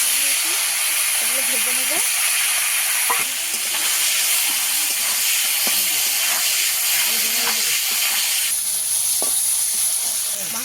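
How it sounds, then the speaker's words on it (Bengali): Fish fries in hot oil with a loud, continuous hiss and sizzle, occasional pops and stirs, and faint voices murmuring underneath. "মাছটাকে আমি ভালোভাবে ভেজে নেব"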